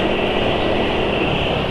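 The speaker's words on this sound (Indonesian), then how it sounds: "Habis ngebut terus langsung pelan gitu ya, suara mesin halus." A running engine lubricated with film-strength oil settles into a smooth, steady hum after revving, with a broad even drone held at constant loudness throughout and no one talking.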